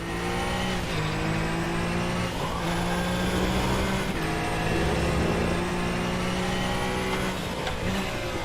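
A race car engine in an rFactor video game at the Nürburgring drones continuously at fairly low revs, with steady gear-like whine and brief dips as it shifts, loud and close throughout.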